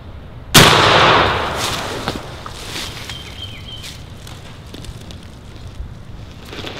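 A single sharp gunshot at a wild turkey during a spring hunt in Pennsylvania, a loud crack followed by a decaying outdoor echo, then quiet wind and faint ambience.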